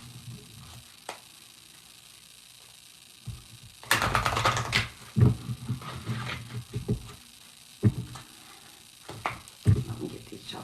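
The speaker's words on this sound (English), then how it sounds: "Let me get these shuffled up real fast." Tarot cards being shuffled by hand, with soft bursts of riffling and slapping that come in uneven clusters, close to the microphone, with quiet gaps between them and no talking.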